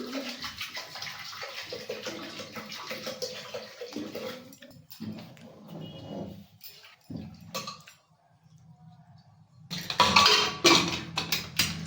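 Water is poured into a pressure cooker holding washed rice, a running splash and gurgle that fades to quiet drips, then a louder burst of pouring and clattering metal toward the end.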